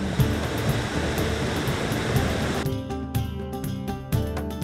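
Cascading water of a waterfall along a Scottish long-distance walking trail, a steady broadband rush that holds throughout, thinning in its upper range partway with a few sharper splashes near the end and no talk.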